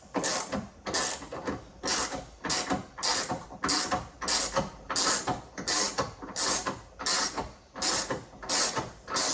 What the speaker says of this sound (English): I'm going to undo the top and bottom ones and see what happens.